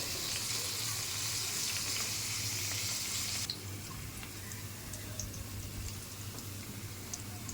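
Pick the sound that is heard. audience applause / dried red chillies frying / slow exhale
dried red chillies frying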